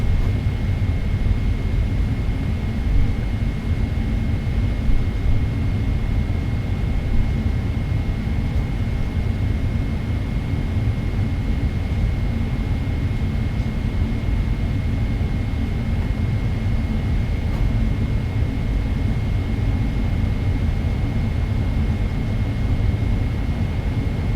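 Twin engines of an Emirates Boeing 777-31H(ER) idling in Microsoft Flight Simulator 2024, a steady low rumbling drone with a faint constant whine above it, unchanging and continuous throughout.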